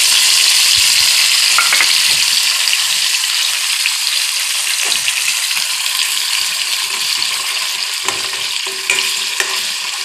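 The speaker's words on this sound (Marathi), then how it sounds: "आपण ग्रेव्ही आता तेलावर फ्राय करून घेऊया" Onion and tomato gravy fries in hot oil, a steady loud sizzle running throughout with occasional scraping stirs of a spoon against the pan.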